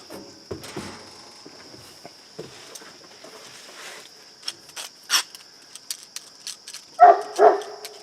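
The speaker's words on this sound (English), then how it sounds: "you're just going to have to put up with that dog barking" A dog barks a few times in the distance, with a sharper pair of barks near the end over a quiet outdoor background with a faint steady whine.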